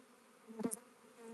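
A honey bee swarm gives a soft, faint buzzing hum that swells briefly as a bee passes close, then settles back to a low drone.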